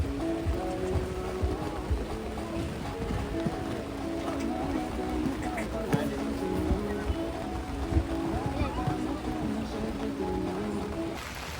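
Rain drumming steadily on tarpaulin covers overhead at an outdoor equestrian jumping event, a dense constant patter close by with faint voices and movement beneath it.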